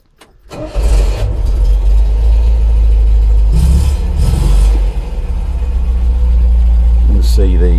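A car engine cranks and catches, then settles into a steady, loud idle close by, with a couple of brief revs partway through.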